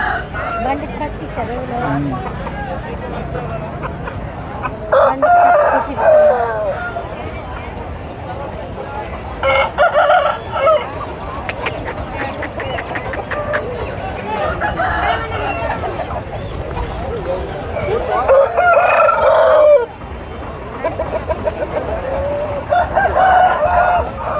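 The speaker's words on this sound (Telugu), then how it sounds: "దగ్గర చాలా కోళ్ళు అయితే ఉన్నాయి ఇక్కడ" At a village market, a rooster crows loudly several times over steady hen clucking, with a busy background murmur of birds and distant voices.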